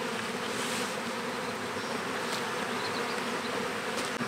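Honey bees buzz in a dense, continuous drone around a nucleus colony hive close by, loud and steady throughout with no voices.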